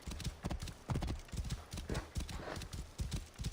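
Hooves of a horse clip-clop steadily across desert ground in a quick, continuous rhythm, close and fairly loud for the whole stretch.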